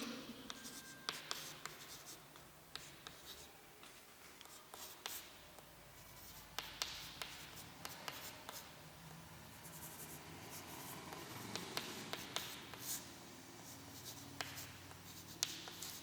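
A pen writing a Hindi letter to a school principal asking for leave, heard as steady, soft, close scratching strokes on paper that continue throughout with no voices.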